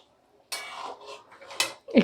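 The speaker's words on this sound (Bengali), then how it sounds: "এবার মাছগুলো এর ঝোলে দিয়ে দেবো" Pabda fish pieces go into a mustard gravy in a pan, heard as a few short clinks and scrapes of utensils on metal, followed by a soft bubbling sizzle, close by with no voices.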